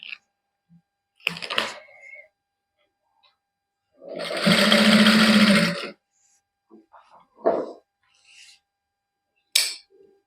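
A sewing machine stitching lace onto a palazzo trouser hem, running in one steady burst of about two seconds between short fabric-handling noises and pauses.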